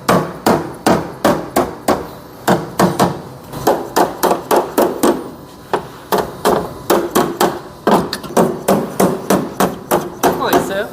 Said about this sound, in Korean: 할더 무진동 망치로 작업해 보겠습니다.